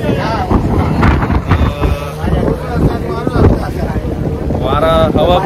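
A passenger boat ride near the jetty at Vengurla harbour, with steady engine and water rush and strong wind buffeting the microphone throughout, while people talk and music plays over it.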